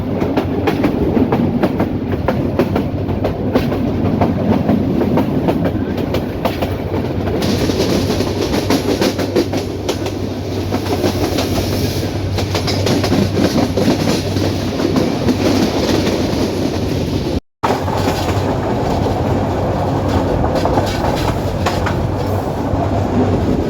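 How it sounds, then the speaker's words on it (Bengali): Parabat Express train rounding the Mominchara curve on the Sylhet–Kulaura line, heard from inside as a loud steady rumble with rhythmic clickety-clack of wheels over rail joints, continuous throughout with one brief dropout. "বর্তমানে আমাদের ট্রেনটি মমিনসরা কার্ভ অতিক্রম করছে"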